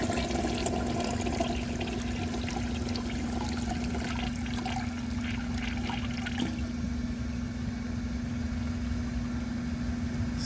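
A 1982 Crane Dalton toilet flushes with its handle held down to drain the tank, a steady rushing water sound with a low tonal hum that runs throughout, fairly close and continuous.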